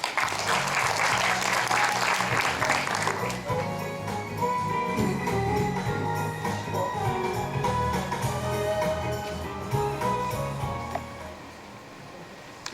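A crowd at a Korean village basic-law discussion forum claps in steady, full applause for several seconds to welcome a speaker, then it thins and fades.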